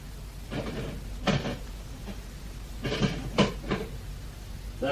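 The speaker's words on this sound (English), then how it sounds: "What's that? Someone knocking on door." Knocking at a door in a 1974 radio drama of Wuthering Heights: two separate bursts of muffled knocks, one single and then a quick cluster of three, over faint background hiss.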